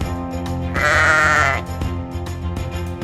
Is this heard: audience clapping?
no